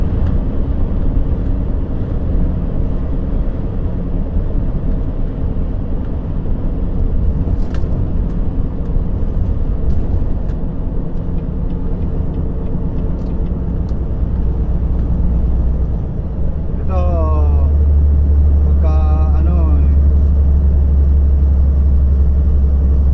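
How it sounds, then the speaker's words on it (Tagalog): An old truck climbs the steep grade of Rogers Pass in British Columbia, its engine droning in a steady loud rumble throughout, deepening and growing heavier near the end as it pulls uphill. "Malakas pa rin ang truck natin sa ahon"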